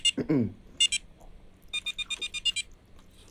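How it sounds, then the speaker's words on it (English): A BBC Micro:bit gives out short electronic beeps when the ball goes out of bounds in a game, two quick separate bleeps and then a rapid run of about ten, close and clear with a voice briefly heard. "That's the beeping tone"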